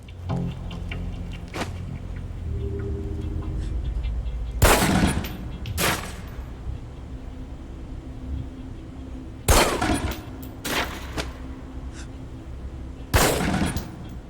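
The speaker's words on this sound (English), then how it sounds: "Equip the pistol, then aim down range and take some shots at the target." Pistol shots crack on a firing range in the video game Alpha Protocol, a handful of sharp, loud reports spaced several seconds apart, some in quick pairs, over a quiet background.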